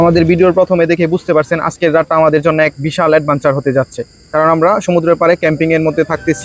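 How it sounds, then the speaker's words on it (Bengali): Steady high-pitched cricket chirping at night at a beach resort in Cox's Bazar runs beneath continuous close speech throughout. "মাঝে মাঝে শোনা যাচ্ছিল ঝিঝি পোকার ডাক"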